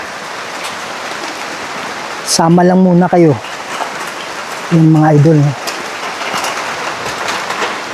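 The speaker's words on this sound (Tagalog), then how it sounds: "Hindi naman ganun kalakas yung ulan. Pero talagang maingay." Steady rain falls noisily outdoors, a dense, continuous hiss close by, while someone speaks over it twice.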